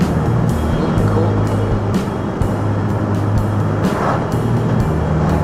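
Loud, steady engine drone from inside a moving 2011 VW GTI accelerating on a straight, with a low humming tone and periodic thumps or shifts as it pulls forward.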